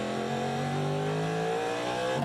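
Cadillac race car engine during an IMSA SportsCar Championship race on a street circuit, a loud sustained roar rising slightly in pitch as it accelerates, close by and with no talking.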